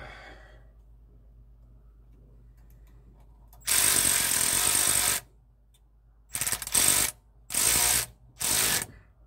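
A ratchet tightens a nozzle fitting on an outdoor boiler converted to burn waste oil, sounding as loud, close bursts of rapid clicking: one long run, then three shorter ones separated by pauses, with no talk.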